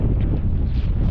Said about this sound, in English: It's not that it's extremely cold, it's just fairly windy where we're working.